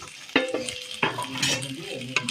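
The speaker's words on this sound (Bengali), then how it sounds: "এবার ডিমগুলো দিয়ে ভালো করে এটা আরেকটু কষিয়ে নেব" Fried eggs being stirred into potatoes and peas in a pan for a spicy egg curry: repeated scraping and clinking of a utensil against the pan over a low sizzle, close and moderately loud, with no talk.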